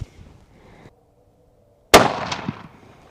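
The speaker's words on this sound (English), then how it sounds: "So let's shoot one more here, and hopefully we're real close." Single sharp crack of a Winchester Model 70 rifle chambered in 6.8 Western, fired outdoors, loud and close after a quiet lull, with a brief rolling echo afterward.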